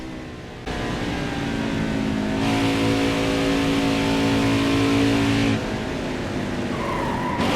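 A race car engine in the NASCAR Heat 5 video game at Homestead-Miami revs hard, with a loud sustained roar that climbs in pitch and holds steady for several seconds, then drops off near the end.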